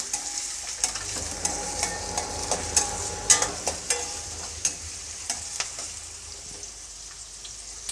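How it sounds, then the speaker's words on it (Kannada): Onions and green chillies fry in oil on a medium flame for girmit, a steady sizzle close by with a series of distinct scraping and stirring knocks from a spatula in the pan. "ಈರುಳ್ಳಿ ಮತ್ತು ಹಸಿಮೆಣಸಿನ್ಕಾಯಿನ ಚೆನ್ನಾಗಿ ಫ್ರೈ ಮಾಡ್ಕೊಳ್ತೀನಿ"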